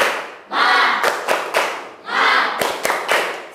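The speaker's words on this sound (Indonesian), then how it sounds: "Ibu minta coba tepuk semangat" Students in a classroom do the 'tepuk semangat' spirit clap, two bursts of group clapping and chanting, each ending in a few sharp, rhythmic claps, fairly close and moderately loud.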